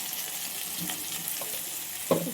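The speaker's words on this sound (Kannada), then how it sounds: "ಇದೊಂದು ಚೂರು ಫ್ರೈ ಆಗಲಿ." Sambar powder and turmeric fry in a hot pan, making a steady close sizzle and crackle with a few soft stirring scrapes and a brief clink near the end, with no talking.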